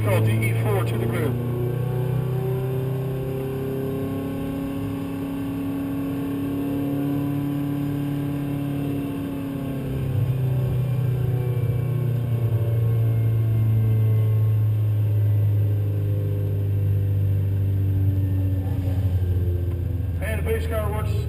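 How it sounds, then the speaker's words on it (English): A pace car and race cars pass the start-finish line at Road Atlanta, with sustained engine drone and shifting pitch as cars go by, under a steady announcer voice. "Pace car works its way past start finish"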